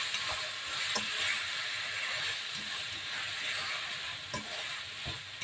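Chicken and sayote fry in a pan while being stirred, giving a steady loud sizzle with scraping strokes of the utensil repeating throughout.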